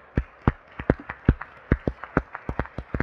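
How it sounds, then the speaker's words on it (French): Sparse applause from a small conference audience for speaker Marion at a melon-growing talk, distinct individual claps in an uneven rhythm, fairly close and moderately quiet. "On peut applaudir Marion s'il vous plaît"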